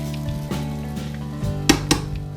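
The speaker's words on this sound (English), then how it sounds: "the second batch of fish is done frying, so I'll get that pan out" Catfish sizzles steadily in a hot frying pan, with a couple of sharp clinks of a utensil against the pan near the end.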